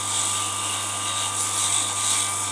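A rotary tool sands the inside of a boxwood ring, giving off a steady, high, close whine that holds evenly throughout with no talk.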